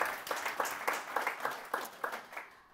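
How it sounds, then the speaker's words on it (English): Light, scattered clapping from a conference audience, a handful of distinct claps in an uneven rhythm, fairly quiet and fading out at the end. "round of applause, please"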